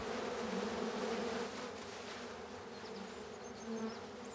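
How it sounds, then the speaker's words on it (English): Honeybees crawl over hive cells, some carrying pollen on their legs, making a continuous close buzzing drone that swells slightly and then eases. "There's a bee with the pollen on its legs,"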